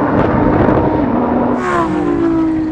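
A Lamborghini Huracan, Audi R8 and Nissan GT-R drag race, engines roaring loud and close in a continuous surge, with a rising whine as one car pulls through its gears midway.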